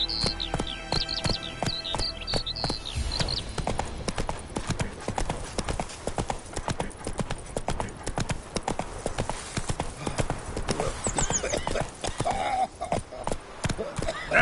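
Roach, the horse in The Witcher 3, galloping: rapid, rhythmic hoof clip-clops hammering steadily across the ground, close and loud, with a brief whinny and game sounds at the start and talk mixed in.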